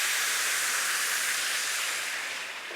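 White wine hisses and sizzles in a hot risotto pan with garlic, shallots and oil, a steady, bright, close frying hiss that fades slightly toward the end.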